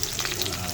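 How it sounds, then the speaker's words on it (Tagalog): Garlic and ginger sizzling in oil in a pan, a soft continuous frying hiss, brief and fairly quiet. "brown ang ating bawang sa kaluya guys"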